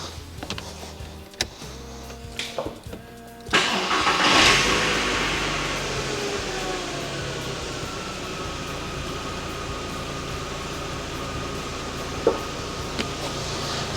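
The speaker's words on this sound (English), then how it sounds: "Let's start this thing up and see if it idles okay." A VW Golf engine cranks and catches after a few light clicks, then settles into a steady, even idle that runs on without anyone speaking.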